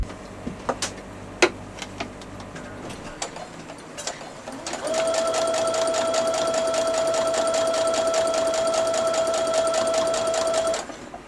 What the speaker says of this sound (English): by using this foot, you're going to sew perfectly straight and exactly the same distance from the edge of your fabric all the way along